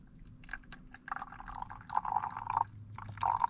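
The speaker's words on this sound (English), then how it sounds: "we rotate this guy over, and we start filling it with some water" Water poured into the reservoir of a cooling car seat unit, a steady trickling pour with brief pauses, fairly close and moderately quiet, over a low background hum.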